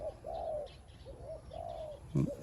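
A dove coos in soft repeated phrases, a few low rounded calls with pauses between, followed by a brief louder flutter or knock near the end.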